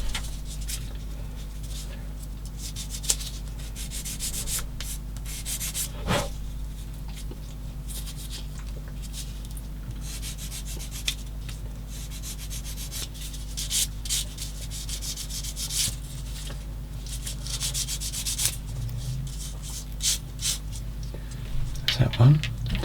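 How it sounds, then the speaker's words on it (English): Plastic parts from a 1/16 scale Takom M10 IIC Achilles tank model kit being sanded by hand, a steady close scratchy rubbing that runs throughout, with occasional light clicks and handling noises. "I'm doing them off because you see me sanding."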